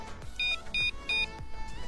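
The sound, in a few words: motorcycle alarm beep when locking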